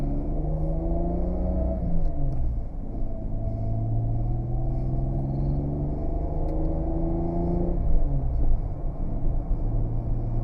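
Toyota Supra driving on an open road, with a steady engine rumble whose pitch rises through the gears and drops at each shift, heard from inside the cabin with no talking.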